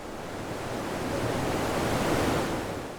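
Ocean waves wash in a small Caribbean harbour in Guadeloupe, a broad, steady surf roar that swells gently and eases, with no voices.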